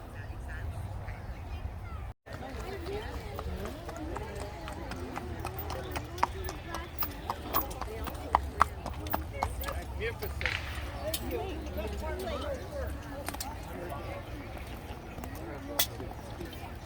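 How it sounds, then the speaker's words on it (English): Horse hooves clip-clopping at a Civil War re-enactment, a steady run of light, sharp clops at mid distance beneath people talking, with duck-like quacks mixed into the outdoor crowd noise. "Magnificent horse here."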